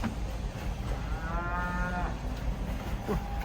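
A cow moos once, long and low, amid the bustle of cattle being unloaded from a truck, with a steady background rumble.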